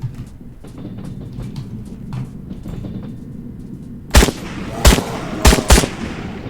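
A rifle fires four loud, close shots in quick irregular succession in Trans-Siberian Railway Simulator, following a stretch of low rumbling ambience.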